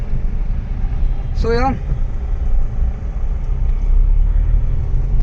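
A 2010 Maruti Suzuki Swift ZXi with a 1.2-litre petrol engine on the move, a steady low engine and road rumble filling the cabin while someone talks briefly over it.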